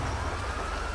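A police car siren wails in a video game, loud and continuous through a brief moment, layered over a low rumbling engine-like noise.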